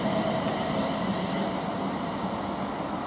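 Train 35127 bound for London Euston runs through Milton Keynes Central station as a steady, continuous rumble of rolling wagons. The noise is moderately loud and even throughout, with no talking.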